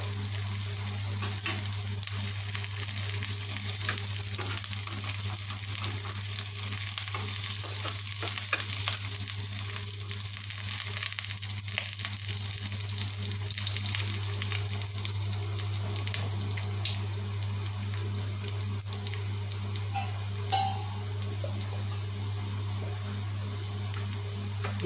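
Onions frying in a pan hiss in a steady, close sizzle for a long stretch, with faint scrapes of stirring and a constant low hum underneath, no talk.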